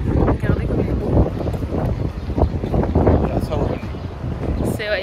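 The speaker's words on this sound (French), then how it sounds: "Il y a énormément de vent encore aujourd'hui." Strong wind buffets the microphone outdoors on the Toronto Islands, a loud continuous rumbling roar with gusts, while a person talks over it.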